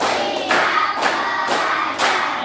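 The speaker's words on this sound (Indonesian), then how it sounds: "Suaranya tepuk 1" A classroom group clapping in unison, several distinct bursts of claps separated by short gaps, close and loud with no talking over them.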